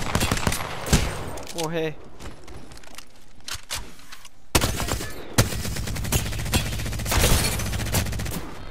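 Rapid bursts of video game gunfire crack repeatedly at the player, sharp and loud, interspersed with a player's brief exclamations.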